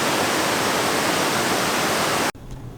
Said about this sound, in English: We have another little waterfall.